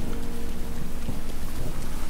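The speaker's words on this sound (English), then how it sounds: "Because it's raining." Rain falls steadily in Breath of the Wild in the land of Hyrule, a dense continuous hiss of drops with a low rumbling undertone, loud and unbroken throughout.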